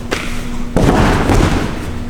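A body landing on a mat after a front flip off a wall, one loud close thud that follows a brief softer touch and is left to die away with a short rustle.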